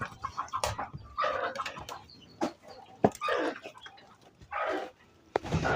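A hen clucks in short, irregular bursts close by in a backyard coop holding quail and pigeon eggs, with other fowl calling around her and no talk over the sounds.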